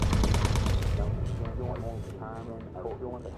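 Machine gun fire from a bomber's gunners fighting off enemy fighters in the video game Bomber Crew, rapid bursts of shots dense at first and then thinning into scattered rattles, mixed with game sounds.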